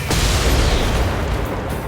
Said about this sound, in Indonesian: ledakan terjadi